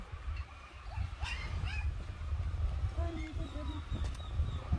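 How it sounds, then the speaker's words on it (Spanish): Puppies bark and yip in short, high bursts at moderate distance, scattered over a steady low background hum while people talk nearby. "¿cómo hace bulla los perritos?"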